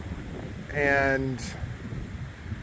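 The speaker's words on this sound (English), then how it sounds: "As you can tell, it's still pretty windy out here." Strong wind gusts buffet the microphone outdoors beside a greenhouse during a big windstorm, a steady low roar that runs through the whole clip, with a brief spoken word cutting in near the middle.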